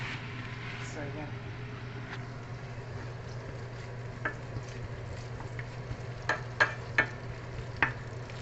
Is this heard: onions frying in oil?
yes